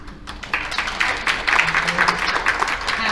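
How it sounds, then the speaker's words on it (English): An audience at an adult forum gathering breaks into steady applause, a dense patter of many hands clapping at moderate volume for about three seconds, with a faint voice underneath. "I always like a round of applause"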